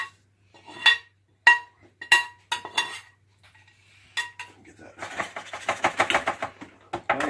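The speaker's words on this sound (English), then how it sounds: "scrape the rest of it out, excuse me, with the spatula there" A spatula scrapes keto taco pie beef filling out of a dish, first as a few separate sharp clinks and scrapes against the dish, then as a quicker run of rhythmic scraping strokes near the end.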